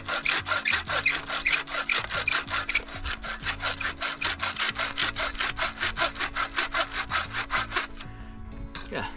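An Agawa folding saw cuts wood at a lakeside campsite with fast, even push-pull strokes, a steady rasping rhythm close to the microphone that stops near the end, with no talk.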